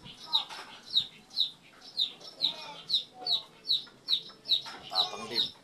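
Young Sweater gamecock stags, about three months old, give a steady series of short clucks and calls in a backyard, roughly two per second, moderately close and clear.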